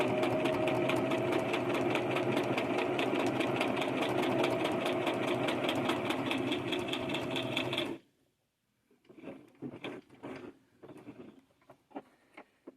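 A sewing machine stitches a reinforcing seam on a purse, running loud and steady with a rapid mechanical chatter for about eight seconds, then stopping, followed by quieter handling clicks and rustles of fabric.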